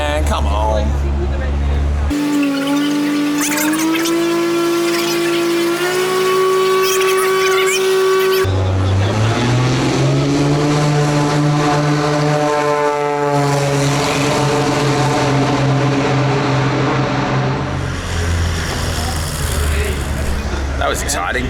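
Hyundai i30N time attack race car engine revving hard at the World Time Attack Challenge, a loud sustained tone climbing through the gears and passing close by, with voices talking over it.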